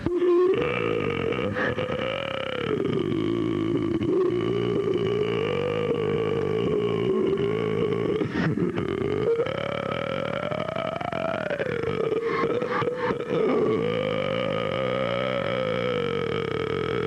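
Long, sustained burp from a contestant at a 1991 Eagle Rock burping contest, droning loudly and steadily for over fifteen seconds with rising and falling pitch, close to the microphone, with no talk over it.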